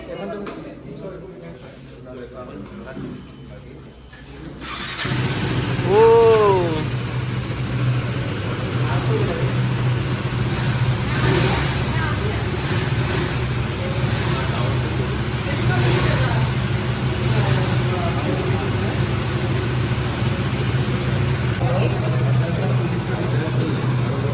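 KTM 390 and 250 motorcycle engines rev and pull away after a short quiet stretch, then a steady engine drone continues with people talking in the background.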